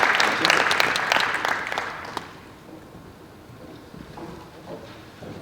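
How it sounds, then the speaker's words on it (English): Audience applause at a UN plenary symposium session, a burst of clapping for roughly two seconds that then fades quickly into a quiet room with faint murmuring. "Why don't you give a big applause for their effort."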